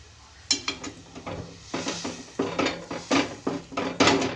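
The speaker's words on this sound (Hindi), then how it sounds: "मैं इनको डालने के बाद पतीली को हिला दूंगी" A cooking pot shaken on a stovetop, with repeated metallic clanks and rattles in quick irregular bursts, close and fairly loud, over a faint background hiss.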